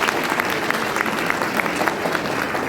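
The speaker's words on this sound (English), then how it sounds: "A big round of applause." Applause from the audience at a school Independence Day quiz, a dense, steady wash of many hands clapping, fairly loud and close, lasting the whole stretch with no talk over it.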